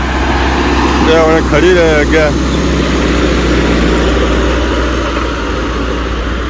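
A tractor loaded with sand, stuck while hauling, gives off a steady low engine drone throughout, with someone talking loudly over it.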